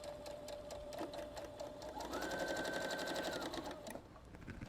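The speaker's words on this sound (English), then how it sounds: "I'm going to sew right up the edge." A Brother Innovis NS80e sewing machine stitches through very thick fabric, a steady rapid mechanical whir with rhythmic needle clatter that rises slightly in pitch midway, close and continuous.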